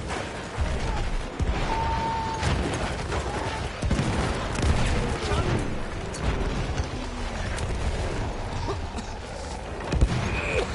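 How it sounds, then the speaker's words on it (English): Enemy artillery barrage on a Battlefield 1 multiplayer battlefield, with dense overlapping booms and crackling gunfire rolling continuously at mid distance amid general battle noise. "Wait for the enemy artillery barrage to stop firing."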